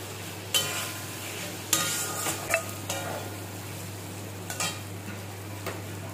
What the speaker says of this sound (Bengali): কুঁদরির সাথে মশলাগুলো কষিয়ে নেব।